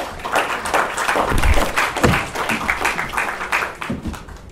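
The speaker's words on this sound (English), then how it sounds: "Ms. Liz, let's give her a round of applause" Audience applause for a speaker coming on stage at a conference event in the Philippines, steady dense clapping sustained throughout, moderately loud and fairly near.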